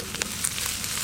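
Slit green chilies and chopped onion fry in hot oil in a pan, with a continuous close sizzle and crackle and small stirring scrapes, no talk.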